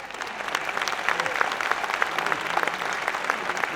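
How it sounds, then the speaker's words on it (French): Steady applause from an audience at a business awards ceremony, dense clapping filling the room for a trophy winner, continuous and fairly loud with no speech over it. "On peut les applaudir, vous applaudir donc pour ce trophée du capital humain"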